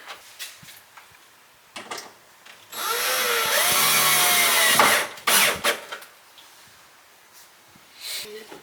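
A power drill drives screws to mount a fire extinguisher bracket with a strap in a barn, giving a loud sustained whirring burst of a few seconds, with shorter bursts and clatter around it.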